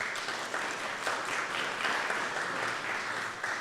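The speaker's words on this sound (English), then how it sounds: "So we have a round of applause for the Boys and Girls Club." A round of applause for the Boys and Girls Club at a community meeting in American Canyon, a steady, dense clapping from a roomful of people lasting the whole stretch at even loudness.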